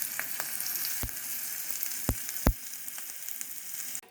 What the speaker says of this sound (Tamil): கடலைப்பருப்பு, உளுத்தம்பருப்பு, பச்சை மிளகாய், காஞ்ச மிளகாய், கொஞ்சம் கறிவேப்பிலை, பெருங்காயத்தூள் இதெல்லாம் சேர்த்து நல்லா பொரிய விடுங்க